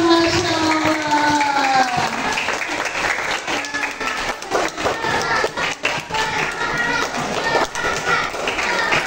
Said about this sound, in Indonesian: Tepuk tangan dulu untuk Ustazah Miftahul Jannah.